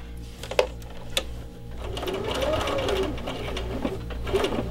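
A sewing machine stitches applique pieces onto fabric, its steady motor hum and needle clatter running close and even, with a few brief pauses for pivoting around curves.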